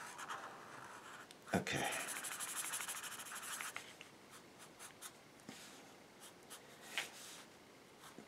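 A pencil draws a circle on paper with steady, close scratchy strokes that run for several seconds and then give way to shorter marks, and a voice speaks briefly.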